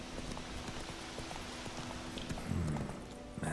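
Horse hooves clip-clop in a quick, steady rhythm as a rider trots through a forest in The Witcher 3: Wild Hunt, moderately close under soft ambient game sound, with a brief thud near the end.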